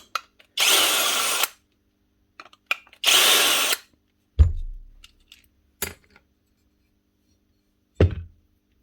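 A power driver removes Torx screws from the motor of a Paslode nail gun, sounding in two long, loud whirring bursts followed by several short clicks and clatters of screws and parts, with no talking.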